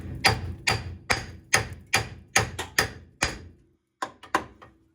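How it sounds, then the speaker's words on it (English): Metal hammer blows on an S10 drop spindle during installation: about a dozen sharp, ringing strikes in uneven bursts, close and loud, with a short pause before a final few hits. "let's loosen those up and start hitting things with hammers"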